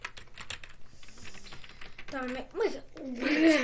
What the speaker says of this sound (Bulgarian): Тава механична клавиатура, Марто